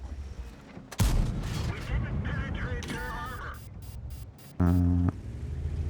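A heavy tank's main gun fires in World of Tanks from the T57 Heavy autoloader, a single sharp booming blast followed by rumbling battle noise and a brief tonal in-game sound.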